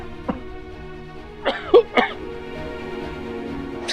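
A few short coughs from a person with a mild cold, a faint one first and then a cluster of harsher coughs, against a quiet room.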